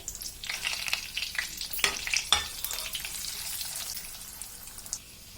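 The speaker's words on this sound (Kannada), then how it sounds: "ಮೂರು ಸ್ಪೂನ್ ಅಷ್ಟು ತುಪ್ಪ, ಗೋಡಂಬಿ ಫ್ರೈ ಮಾಡ್ಕೊಳ್ಳೋಣ" Cashews frying in ghee in a pan, a soft continuous sizzle with a few sharper crackles and scraping stir strokes near the middle, fading gently toward the end with no talking.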